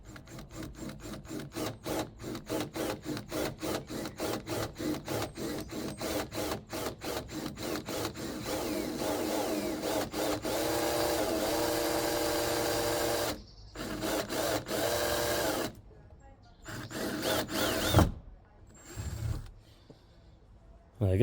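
Rapid rhythmic chatter of a drill boring a pilot hole in an Audi TTS boot lid, close and steady for several seconds, then smoothing into a continuous whine before stopping and restarting in short bursts.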